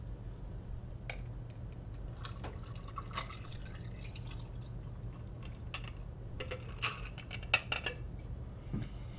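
A drink is poured into a glass, giving soft liquid trickles and drips with scattered light clinks of glassware over a low steady background hum, close by and without talk.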